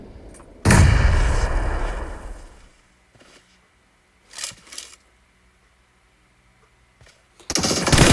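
Gunfire and grenade blasts in PUBG: a loud, close explosion-like burst that decays over a couple of seconds, a short pair of distant shots in the middle, then another loud burst of fire at the end, separated by near silence.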